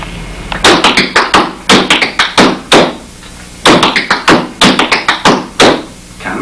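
Flatfoot dance syncopation step with a single rock, sharp foot taps on a hard floor in two quick rhythmic bursts separated by a short pause, loud and close, with no talking.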